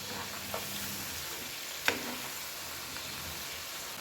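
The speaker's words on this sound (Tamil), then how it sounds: "நல்லா கிறிஸ்பியாக ஃப்ரை ஆகிட்டு இருக்குது காலிஃப்ளவர்." Cauliflower 65 pieces deep frying in hot oil over a high flame, a soft even crackling sizzle with one brief clink of a utensil, quiet and without talk.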